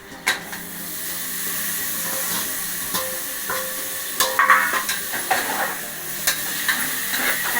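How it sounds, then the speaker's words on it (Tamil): Chopped tomatoes sautéing in hot oil with masala in a pan for chicken biryani, a steady close sizzle and hiss broken by repeated scraping clatters of stirring, with no talk. "தக்காளி கொஞ்சம் வதங்கட்டும்"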